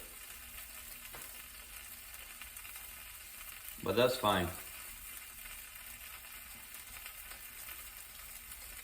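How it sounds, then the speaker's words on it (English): Quesadilla cheese melting out into a hot frying pan gives a faint, steady sizzle that runs the whole time, briefly under a short spoken phrase. "some of that cheese is probably gonna melt out. That's what, if you can hear it."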